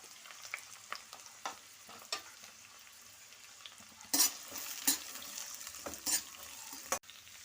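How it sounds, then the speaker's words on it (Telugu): Carrots and beans fry in oil for a restaurant-style paneer mixed vegetable curry, a quiet, even sizzle punctuated by repeated clicks and louder scrapes of a spoon stirring against the pan. "ఇప్పుడు ఫస్ట్ ఈ క్యారెట్ బీన్స్ ఆయిల్లో ఫ్రై చేసుకుంటానండి"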